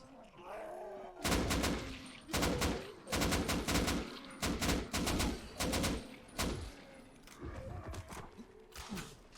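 Rapid bursts of gunfire from a gun emptying a whole magazine in the zombie video game Dying Light, with loud clustered volleys repeating across the clip and no talk.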